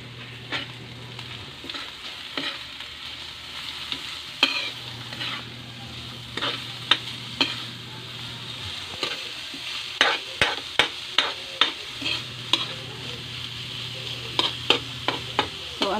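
Sliced bitter gourd and egg fry in a pan with a steady sizzle while a utensil stirs and scrapes in quick, repeated knocks, close and fairly loud.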